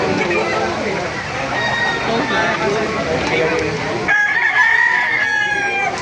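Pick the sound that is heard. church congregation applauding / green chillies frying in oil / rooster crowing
rooster crowing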